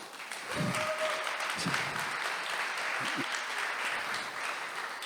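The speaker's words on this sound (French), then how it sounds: "Et si on peut l'applaudir, allez, on coupe." Audience applause at a networking and pitch event in Paris's Palais Brongniart, a steady, moderately loud clapping that fills the room for several seconds.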